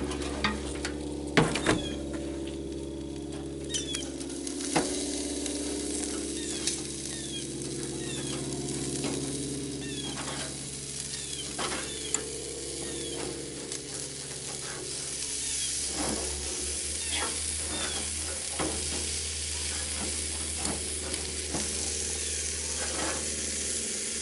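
Steak sizzles steadily on a grill with one burner lit, a constant frying hiss with scattered pops and crackles over a low hum, no voices.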